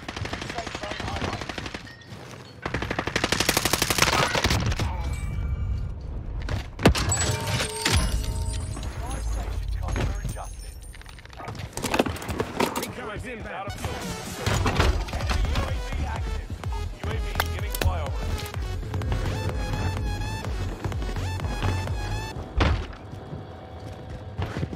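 Loud, rapid automatic fire from a CX-9 submachine gun in Call of Duty on Rebirth Island, in repeated close bursts over a busy game mix with shots and impacts, a voice talking intermittently.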